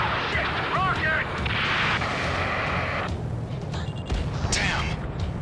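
A rocket explosion and heavy combat fire in the Ace Combat 7 jet combat game, loud dense blasts and rumbling booms over constant jet noise, with radio voices talking in between.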